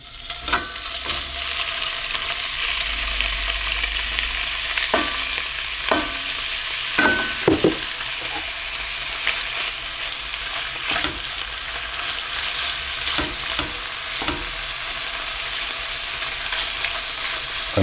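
Beef steak pieces fry in hot oil, a steady sizzle broken by scattered crackles and pops, plus an occasional clink of a utensil against the pan.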